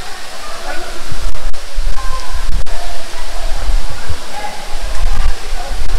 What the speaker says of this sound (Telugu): పెంచలకోన మెయిన్ వాటర్ ఫాల్స్ అదే అండి